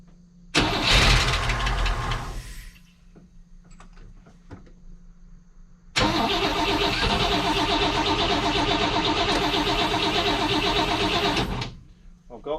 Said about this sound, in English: we can go ahead and start the car and run it